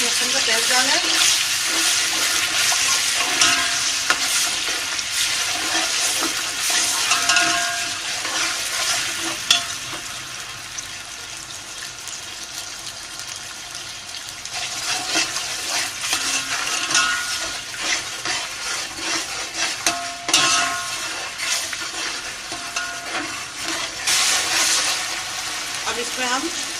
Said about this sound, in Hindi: अब हम घी के अंदर हमने अदरक लहसुन का पेस्ट डाला है।